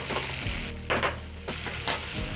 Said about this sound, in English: The sugar is going to help the onions to caramelize